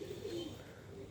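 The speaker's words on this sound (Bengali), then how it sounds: "দেখেন এখানে অনেক কয়েক জোড়া কবুতর আছে মোটামুটি" Several pairs of pigeons kept in a loft coo softly and continuously, a low murmuring warble that stays steady and fairly close, with no talk over it.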